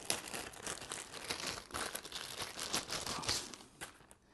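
Cellophane wrapping is peeled off a Uni-T UT161E multimeter, a close, continuous crinkling and crackling that lasts a few seconds.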